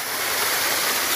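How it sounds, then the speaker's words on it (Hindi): A waterfall in a village near Billawar in Jammu roars as a steady, dense rush of falling water, loud and unbroken, with no voices. "भैया ये वाटर फॉल"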